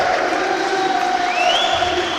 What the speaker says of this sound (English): And the crowd is cheering.